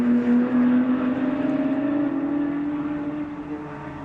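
GT4 racing cars at Silverstone roar past side by side, a loud sustained engine drone with a steady pitch that slowly fades as they pull away.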